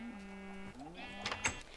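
Sheep in Minecraft bleating in a short, nasal burst near the end, preceded by soft synthetic tones, the whole passage faint and brief with no talking.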